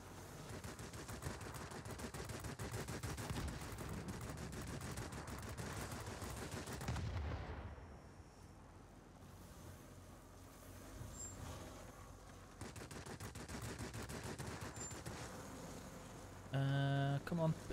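Enemy gunfire in a Wargaming naval video game, a sustained rattle of rapid shots under a rumbling engine bed, broken by a quieter lull midway before the firing resumes, with voices talking over it.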